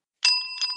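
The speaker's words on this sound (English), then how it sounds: "did you drop the bell?" Two quick rings of a small bell with clear sustained metallic tones, the second strike right after the first, alone in otherwise quiet surroundings.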